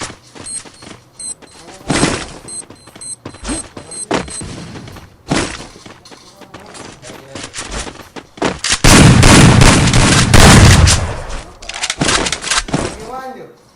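Shotgun blasts go off in a shooter video game, with sharp bangs scattered among rumbling explosions and a loud sustained burst of chaotic noise, all under frequent talk from players.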